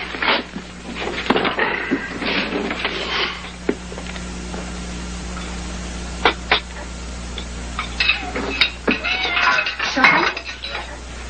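Dishes, pots and cutlery clatter in a home kitchen, with sharp clinks and knocks arriving in irregular clusters over a quiet room background.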